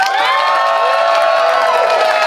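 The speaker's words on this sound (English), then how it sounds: "I want you to clap and cheer and woo and make noises with your mouths and your hands." A crowd at the Minnesota State Fair cheers, whoops and claps together in a loud, sustained burst with shrill high voices layered over the noise.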